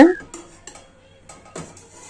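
Plates and utensils clink and clatter a few times at close range while steamed raw bananas are moved onto a plate, with short sharp knocks separated by brief pauses.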